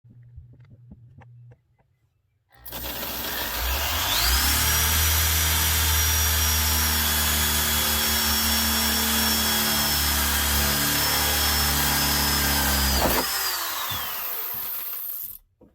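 A power drill fitted with a 5/16 bit bores holes in a metal audio-amplifier chassis, a steady loud whine holding for about ten seconds with a rising pitch tone, then cutting off abruptly.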